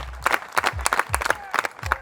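Spectators at a disc golf distance championship clap in a brief rhythmic burst, about a dozen sharp claps in a loose beat, fairly close, with some voice mixed in.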